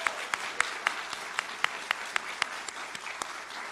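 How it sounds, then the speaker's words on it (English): Applause from a graduation ceremony audience for the class of 2018, thin and somewhat distant clapping with a few sharp individual claps standing out in a steady rhythm. "Let's give a round of applause to the class of 2018"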